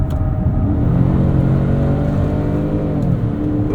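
A 2024 Lincoln Nautilus Black Label accelerates out of a corner, its engine note rising steadily and heard loud from inside the cabin, with no talk over it.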